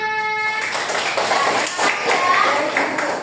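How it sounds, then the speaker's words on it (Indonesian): Students in a classroom clap their hands in a steady patter after a maths answer, mixed with chatter and voices throughout, following a brief high tone at the start. "Tepuk tangan."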